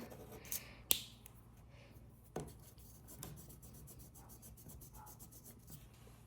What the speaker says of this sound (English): These are magic eraser pens. So I can just show you on this scrap piece of paper.